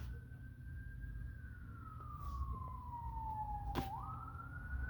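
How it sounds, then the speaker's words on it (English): A distant siren wails faintly, its pitch sliding slowly down and then rising again, over a low rumbling background of traffic. "Can you hear the sirens?"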